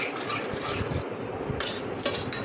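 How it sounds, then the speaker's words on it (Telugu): Fried drumstick pieces are stirred in oil in a pan, with a steady run of scraping and clinking from the utensil against the metal, close and moderately loud with no talking. "మళ్ళీ అదే నూనెలో మేము కలుపుతున్నాము."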